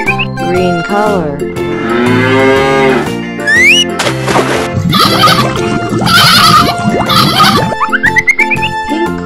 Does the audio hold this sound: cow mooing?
yes